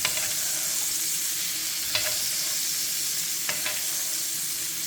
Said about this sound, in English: let it cook a little bit because you obviously want that side to get seared